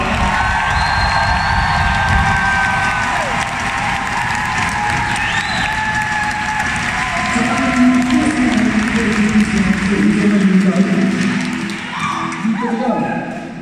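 A concert crowd applauds and cheers at a show, loud and continuous, with scattered whoops and shouts rising within the clapping and some voices mixed in.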